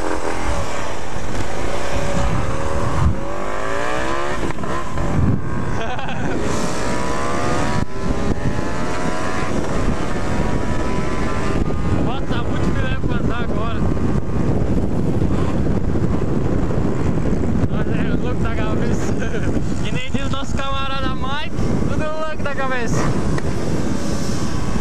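A small motorcycle races past at full throttle on a road, its engine whine rising and falling through a steady roar of wind noise, close and loud, with someone talking over it.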